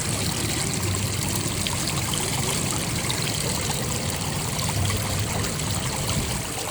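Water rushing steadily beneath a floating ball fountain, a dense, loud, unbroken wash of flowing and splashing water with no voices.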